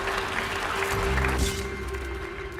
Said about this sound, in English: this is where the clapping starts